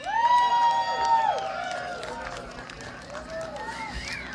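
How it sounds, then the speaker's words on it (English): A crowd at a farm's harvest ball concert cheers and whoops, opening with a loud, sustained whistle over the noise, then fading into scattered shouts and hand claps with voices mixed through. "Give her a nice round of applause."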